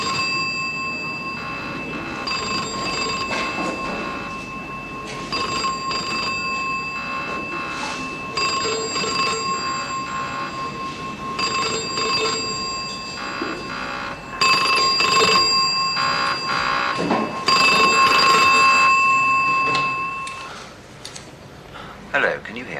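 Telephone ringing on and off without being answered, a bright repeated electronic trill in regular bursts, with people talking over it and background noise throughout.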